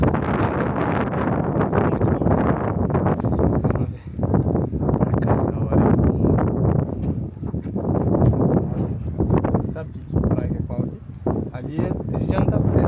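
Wind buffets the microphone on the Morro do Macaco hiking trail in Bombinhas, making a loud, continuous rumbling roar that surges and briefly dips, with a voice faintly under it.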